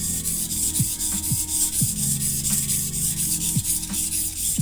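A kitchen knife edge is rubbed back and forth on a sharpening whetstone. Repeated gritty scraping strokes come up close and loud in an even rhythm, with no talking.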